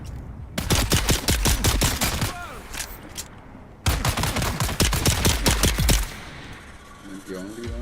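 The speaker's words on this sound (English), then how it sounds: "They're shooting at me." Rapid bursts of automatic gunfire in the survival game Dune: Awakening, two long loud volleys of dense shots split by a short lull, then fading to quieter game ambience.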